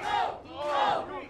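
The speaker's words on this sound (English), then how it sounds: "the dope chants echo through Lincoln Hall" Wrestling fans chant in unison inside Lincoln Hall during a tag team championship match, two loud rhythmic vocal surges echoing through the room.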